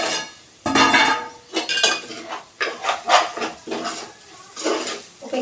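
Bitter gourd fry curry is stirred in a metal pan, a loud close series of rhythmic scraping and clanking strokes of a spoon against the pan, with no speech.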